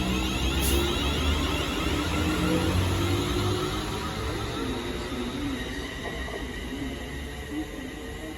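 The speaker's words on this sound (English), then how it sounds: "departing now is a London North Western Railway service bound for Euston" London Northwestern Railway passenger train departing a station platform toward London Euston, a steady rumble of wheels and traction motors that gradually fades as it pulls away.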